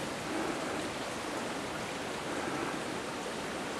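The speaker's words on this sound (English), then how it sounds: "Another small stream right next to the trail." A small stream flows beside a hiking trail on Mt. Mansfield along the Long Trail, its steady broadband rush of running water continuous and close, with no voices.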